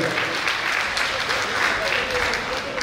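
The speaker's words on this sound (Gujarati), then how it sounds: "તો એ ભાઈઓ માટે તાળીઓના ગણગણાટથી બતાવી દો" Sustained applause from an audience at a school alumni gathering honouring volunteers, steady and dense throughout with a faint tone and murmur underneath.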